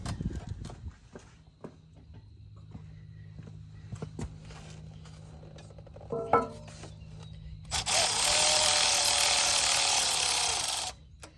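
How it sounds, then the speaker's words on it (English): Cordless Milwaukee ratchet removing the rear differential drain plug on a Polaris Sportsman 850, with clanks and handling noises at first, then a loud, sustained high-pitched motor whir lasting about three seconds close by. "So I take this Milwaukee ratchet and get it in right here from the back."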